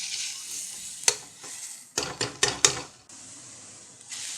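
Onions sautéing in a pan with mustard seeds and curry leaves: a soft steady sizzle broken by several sharp stirring scrapes and clinks in the middle, close and fairly quiet.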